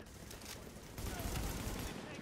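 Suppressing gunfire in The Division, a dense, continuous burst of rapid shots that grows louder halfway through and keeps rattling to the end, with other gunfire layered over it.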